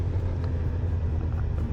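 Honda CB1000R Black Edition motorcycle pulling away, a steady engine drone with low rumble close to the rider, no talking.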